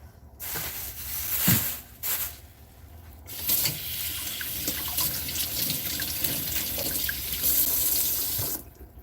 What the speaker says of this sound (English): So let me go ahead and get those rinsed off real good.